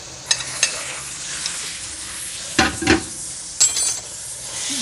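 Turnip mutton curry (shaljam gosht) being stirred and fried in a pot, with a soft steady sizzle broken by a few sharp scraping stirs and clinks of the spoon against the metal pot.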